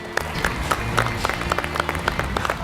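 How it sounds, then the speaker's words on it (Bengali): Studio audience on the Bengali quiz game show Dadagiri clapping for everyone, a sustained round of applause with a rhythmic, even beat of hands, moderately loud and close. "সবার জন্য একটা জোরে হাততালি হয়ে যাক।"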